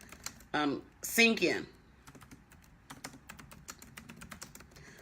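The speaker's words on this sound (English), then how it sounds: "let me type this out because I really want this to" Fingers tap on a computer keyboard in a quick irregular patter of close clicks, with a short spoken phrase near the start.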